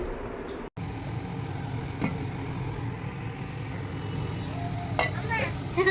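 Chicken curry with green chillies is stirred in a pan, a spoon scraping and clacking over a continuous sizzle, with a brief cut near the start and a few sharper scrapes later on.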